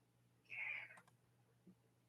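A house cat lets out a single short, faint meow close by, followed by quiet room noise and a tiny click, with no talking.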